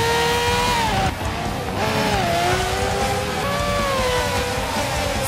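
F1 race cars in a Forza video game drive through turns 6 and 7, with loud, sustained engine whines that dip and climb in pitch as the cars brake and accelerate.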